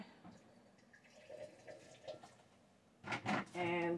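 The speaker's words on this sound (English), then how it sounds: "I'm going to dump this and dump hot boiling water over it." Hot boiling water poured over oyster mushrooms, a short splashing pour that comes in near and loud at the end after a quiet stretch of faint kitchen noise.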